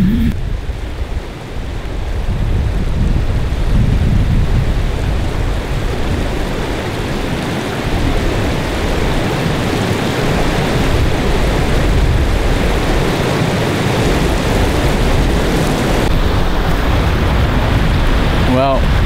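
Strong wind blowing outdoors in New Zealand during a red deer hunt, a loud continuous roar and buffeting rush close to the microphone throughout.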